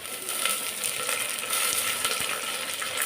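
Curry leaves hit hot oil for a bottle gourd sambar, crackling in a loud, dense, continuous sizzle close by, with light spatter and scraping throughout.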